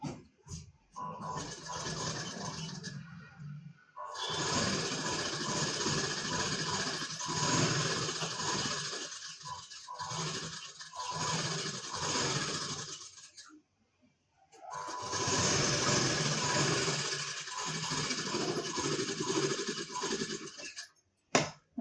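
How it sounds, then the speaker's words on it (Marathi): Sewing machine stitching around the round neckline of a blouse, long runs of rapid mechanical whirring broken by short pauses and a near-silent gap, close and fairly prominent. "इथे मी 1 इंच अंतर ठेवून अशा पद्धतीने गळ्याला व्यवस्थितपणे शिलाई करून घेत आहे"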